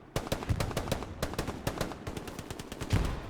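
A machine gun fires in Hell Let Loose, the World War II shooter, with fast, rhythmic bursts of sharp shots close by. Faint bird calls sit quietly underneath the gunfire.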